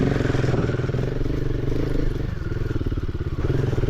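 A Royal Enfield Himalayan 450 climbs a rocky incline, its engine chugging loud and close in an uneven, rumbling pulse with some clatter, and no talk over it.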